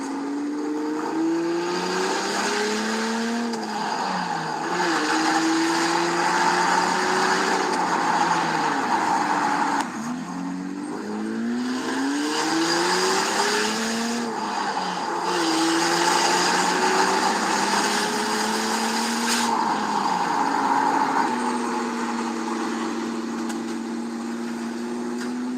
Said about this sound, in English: your little sneak peek of the turbo sleeper minivan